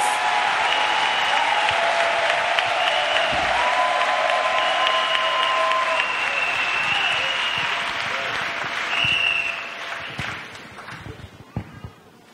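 An audience at a church gathering claps loudly and continuously for about ten seconds before the applause thins into scattered claps and fades out.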